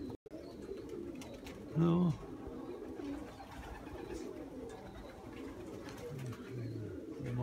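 Pigeons coo softly at a pigeon loft: a couple of low, brief coos stand out over faint outdoor background noise, and a voice is briefly heard.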